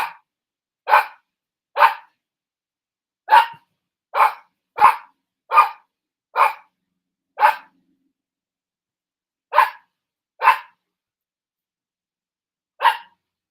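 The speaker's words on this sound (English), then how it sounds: "my dogs were really barking" A dog barks repeatedly with no people around: a dozen sharp, separate barks spread unevenly over about thirteen seconds, some in quick pairs, with silence between them.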